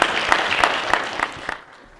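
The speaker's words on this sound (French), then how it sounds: "On l'applaudit bien fort les gars." Spectators at an amateur heavyweight fight night clap for the winner, a burst of crowd applause with distinct sharp claps that thins out and fades near the end.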